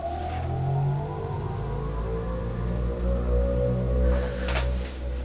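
A bright, sustained synth pad from the Xpand!2 plugin, a bright bend-up patch played on a low C at 93 BPM, swelling continuously with layered tones and a slight rise near the end, no voices.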